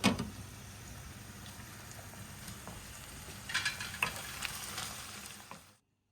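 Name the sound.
onions frying in a pan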